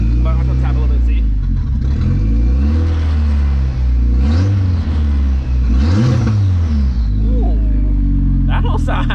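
A VW Golf 3 with a swapped 1.8T engine and no intercooler piping, cold, revving under light throttle taps: repeated short rises and falls in engine pitch over a loud steady idle rumble, close by, with a voice talking.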